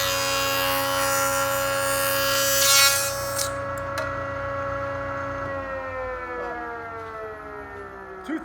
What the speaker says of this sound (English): now I'm going to show you an end grain cut, which again, you won't be able to hear me, but you'll hear the machine running